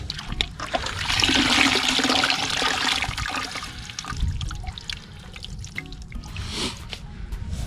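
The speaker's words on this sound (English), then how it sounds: "Getting the soil wet, it'll fall off of the roots." Running water rinses soil off the roots of a dug-up lawn grass sample, a steady close splashing stream that swells and eases over several seconds, with no voices.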